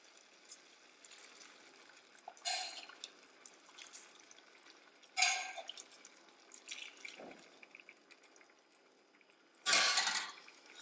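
Water being poured into a pan of seafood risotto, a few brief splashing pours and trickles separated by quieter stretches of faint drips and kitchen background.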